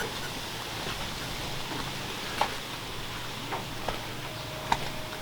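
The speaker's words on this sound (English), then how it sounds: "I'm sort of cheating here by trying to stay under shelter because it is raining" Light rain falling at a muddy canal-side building site with a shed under roof work, heard as a steady soft hiss with a few sharp drips and ticks from sheltered cover.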